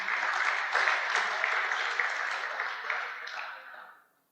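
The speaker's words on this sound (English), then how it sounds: "a nice round of applause there for him" Conference audience applauding a category winner at a no-till farming club event, a broad sustained clapping that stays steady and moderately loud before fading out quickly near the end.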